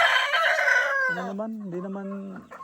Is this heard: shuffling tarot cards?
no